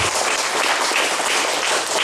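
Audience applause at a church revival meeting in Waingapu, Sumba, a dense steady wash of many hands clapping, loud and sustained across the whole moment without pause.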